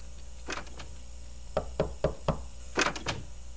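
Knocking on a door in the video game Thirty Flights of Loving comes as two clusters of sharp raps, a quick triple knock followed after a pause by a steady four-knock series and a final burst, close and distinct over quiet background.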